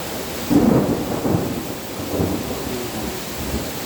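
A thunderstorm with rain: a loud nearby thunder rumble swells and rolls on over several seconds above a constant wash of falling rain.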